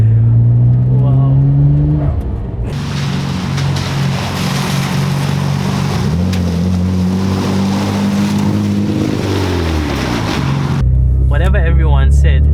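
A Nissan Skyline GT-R R34 engine drones loud and close while driving, rising and falling in pitch as it revs and shifts, with a cut in the drone partway through.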